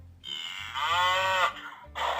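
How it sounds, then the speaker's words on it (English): Bull mooing on a farm, a single long, loud, close low bellow that swells in the middle, followed by a shorter second call, with no talk. "Bull."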